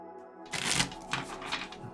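Tarot cards are shuffled in brisk bursts of riffling and slapping, close and clear, after a quiet moment with a faint low hum.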